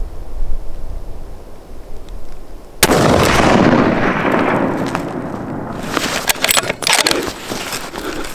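A single loud rifle gunshot cracks out during a late-season whitetail deer hunt in Washington State, sharp and sudden after quiet outdoor ambience, followed by a long rolling echo and a few rustling handling noises.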